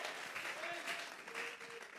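A church congregation applauds as an offering of praise during a Spanish-language sermon, a dense steady wash of clapping with a faint tonal voice threading through it.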